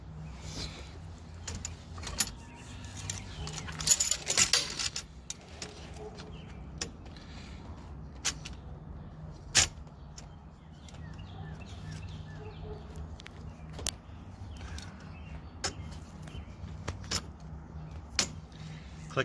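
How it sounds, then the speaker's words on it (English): Parts of a Digitek SX91 snap into place during assembly with sharp clicks scattered through the clip, often paired, over faint background handling noise and no speech. "If you hear 2 clicks, that's right."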